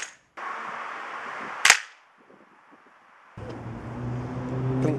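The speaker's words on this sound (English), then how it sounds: "If you're just shooting targets for target practice, they call it plinking" Air rifle plinking at metal targets: a sharp single shot with a metallic crack near the middle, set among quieter mechanical and engine-like noise before and after.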